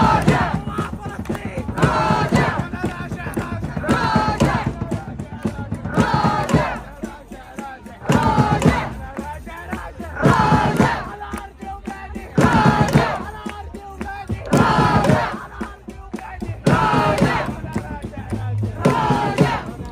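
Pro-Palestine protesters in London chant slogans in loud rhythmic bursts, a large crowd's voices rising and falling in repeated waves across the whole stretch, with steady crowd noise between the chants.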